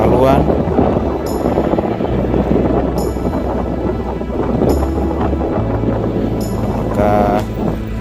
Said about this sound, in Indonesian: Maka ini akan menjadi suatu kesulitan melawan angin kencang saat ini.